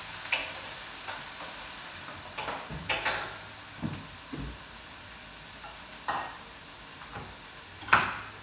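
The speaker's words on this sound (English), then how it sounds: "Keep an eye on your onion, just give it a stir around, don't let it burn." Onion frying in a pan for cottage pie, with a low continuous sizzle and intermittent scraping stir strokes and light utensil knocks against the pan.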